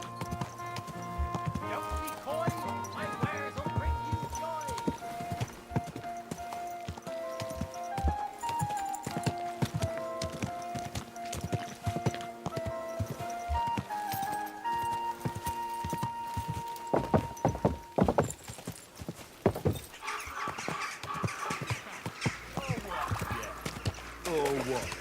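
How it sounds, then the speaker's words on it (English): A horse's hooves clip-clop at a steady walking pace in a video game, set against layered in-game music and effects, with occasional sharper impacts. "Easy, good horse."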